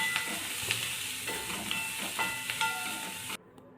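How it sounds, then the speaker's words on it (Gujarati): Garlic and onions fry steadily in a pan for paneer masala, a continuous close sizzle with soft stirring scrapes, no talking, ending abruptly. "હવે આ લસણ ને ડુંગળી થોડી વાર થવા દઈશું આપણે"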